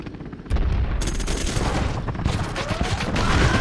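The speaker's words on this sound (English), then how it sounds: "Our minigun will destroy the enemy." Minigun fire in the video game Infantry General – Contra X: a dense, continuous burst of rapid gunfire erupts after a brief lead-in and rattles on steadily, loud and close, with other game noise mixed in.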